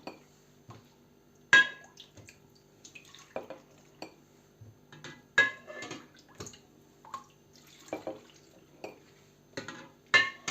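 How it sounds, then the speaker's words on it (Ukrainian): Salted water goes into a jar packed with cucumbers for fermented pickles, heard as scattered trickles, drips and light glassy clinks and knocks, close by and fairly quiet with short pauses between them. "Просто заливаємо до вершечка воду солену."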